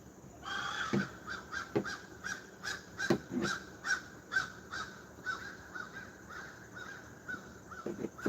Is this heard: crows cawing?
yes